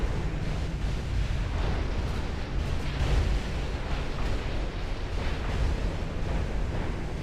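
Heavy rumbling blasts of torpedo explosions in the naval warfare game Ultimate Admiral Dreadnoughts, a dense, continuous roar of booms and low rumble that fills the whole stretch without letting up.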